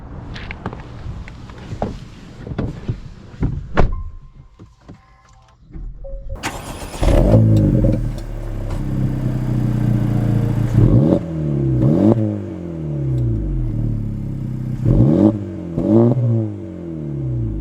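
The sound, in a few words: 2024 Acura Integra Type S car driving and accelerating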